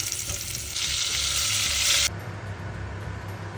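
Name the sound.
salted meat frying in olive oil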